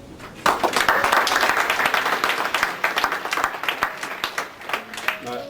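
An audience applauds award winners at a university fire awards presentation, a dense wash of clapping that starts abruptly, holds steady for several seconds, then thins into scattered claps.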